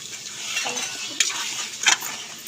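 Mutton curry stirred in a pot on a wood-fired stove, soft scraping with a few sharp metallic clinks of a spoon against the pot, close and fairly quiet.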